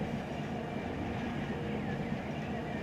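A train rolls past in the Run 8 train simulator on the A-Line, a steady dense rumble of wheels and rail noise holding at a constant level throughout, with a faint squeal briefly rising near the end.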